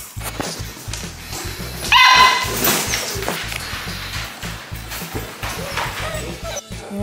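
Puppies at a kennel bark and yip repeatedly in quick, uneven bursts, with a louder close flurry near the start and steady barking throughout, while a person talks to them.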